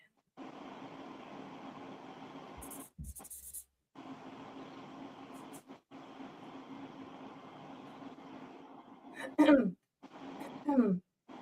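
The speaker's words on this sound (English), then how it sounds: "when I feel like I need to clear my throat" After a long stretch of steady low hum, someone clears their throat twice in short, harsh bursts close to the microphone.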